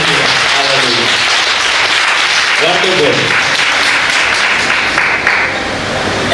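Church congregation applauding during a bishop's special sermon, a steady broad wash of clapping throughout with a voice speaking over it.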